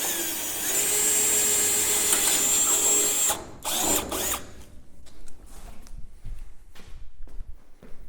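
A loud, steady power drill whine runs for about three seconds while drilling sheet metal on a Triumph Spitfire inner sill, then stops, followed by quieter clattering and handling noises.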